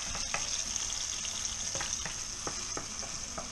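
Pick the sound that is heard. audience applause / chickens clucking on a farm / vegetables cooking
vegetables cooking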